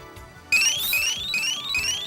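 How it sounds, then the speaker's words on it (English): A digital door lock's intrusion alarm suddenly starts after a quiet moment, blaring a loud, rapidly repeating rising chirp close by, four sweeps in quick succession. "the product will interpret this as a breaking and sound an alarm."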